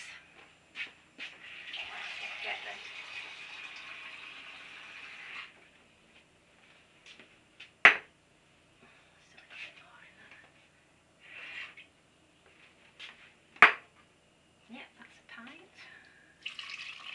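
Water is poured into a Pyrex measuring jug for carrot, coriander and celery soup, giving a steady splashing pour for a few seconds, then scattered drips, clinks and small kitchen knocks, fairly quiet with no talking.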